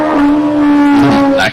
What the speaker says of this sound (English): I think it's a motorbike.